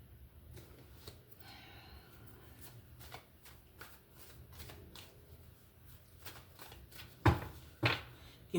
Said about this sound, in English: I want to shuffle here.